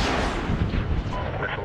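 Missile launch in the video game Medal of Honor 2010: a loud, sustained roaring blast that fills the whole moment, with a rumbling low end and no clear speech.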